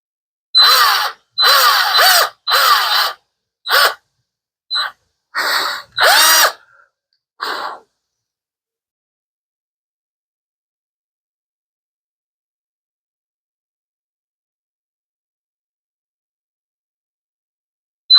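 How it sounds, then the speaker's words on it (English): A power drill boring screw holes for tuners on the headstock of a refinished Gibson Les Paul Studio guitar, about eight short close bursts in quick succession followed by a long silence. "let's carefully drill all of these"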